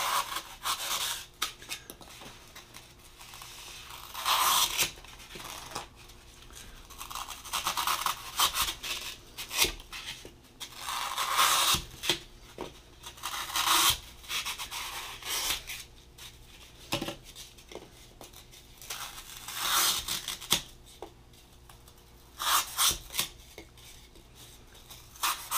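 Trimming a flower pot picture holder craft piece with scissors produces soft snips and rubbing handling noises, with scattered louder cuts and rustles at close range.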